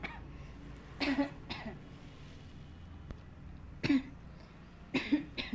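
Several harsh coughs in short bursts, a pair near the start and more toward the end, close by with quiet pauses between.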